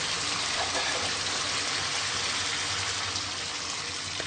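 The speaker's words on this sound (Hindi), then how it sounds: "अब हम इसमें पानी शामिल करेंगे।" Water is poured into a pan of kofta curry, giving a steady, loud rushing gush that runs without a break for several seconds and stays close.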